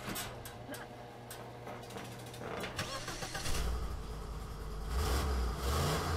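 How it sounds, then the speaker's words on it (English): A big block Ford engine cranks and catches, then revs with a deep rumble that builds and surges, recorded somewhat faintly in a garage. "Ooh, big block Ford right there."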